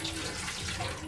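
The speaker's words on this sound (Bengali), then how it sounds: "আলুগুলোকে একটু ধুয়ে নেব" Tap water runs in a steady, hissing stream while potatoes are washed under it, short and close.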